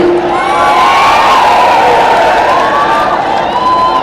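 A huge crowd at an election rally in Mainpuri, Uttar Pradesh, cheers and shouts continuously, a loud, dense roar with whoops and a siren-like wail running through it.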